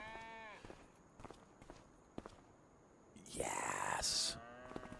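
Cattle mooing in the Farming Simulator 25 video game, a loud drawn-out moo near the end amid game footstep sounds, with someone talking faintly underneath.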